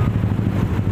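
A motorcycle fitted with a racing exhaust runs nearby, a loud steady low rumble with rapid pulsing firing beats and no talk over it.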